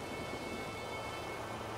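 Steady hiss of heavy rain during a thunderstorm, a continuous dense wash with low rumble underneath and no distinct thunderclap, even in level throughout and without voices.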